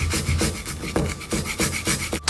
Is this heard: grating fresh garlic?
yes